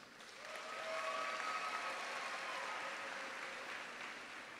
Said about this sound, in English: If we could all just hold our applause till the end